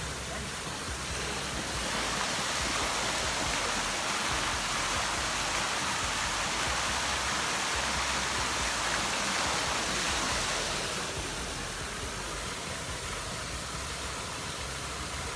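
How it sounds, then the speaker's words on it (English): A continuous broadband rush of falling water, steady and enveloping, swelling slightly in the middle; no voices. "The waterfall is pretty pretty."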